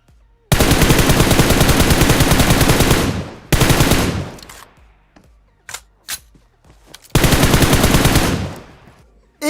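Automatic gunfire rattles in the mobile battle royale game PUBG Mobile: a long loud burst, a second shorter burst with scattered single shots, then a final sustained burst, all close and sharp with no voices.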